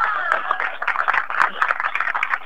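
Applause from the crowd at a kindergarten's inauguration, a dense wash of clapping that holds steady at moderate loudness with scattered louder claps and some voices mixed in.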